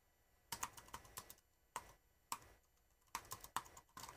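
Keys clatter on a computer keyboard while entering commands to set up a Raspberry Pi, short bursts of crisp clicks separated by quiet pauses, close and fairly faint.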